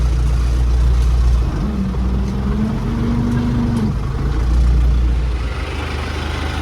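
A tractor engine labouring through a muddy field, a loud, steady low rumble close by with a droning tone that rises and holds midway before settling.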